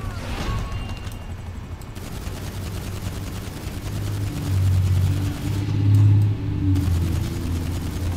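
Gunfire in GTA 5 Online sounds in rapid, steady automatic bursts over a low droning engine hum that swells and revs toward the middle before easing back.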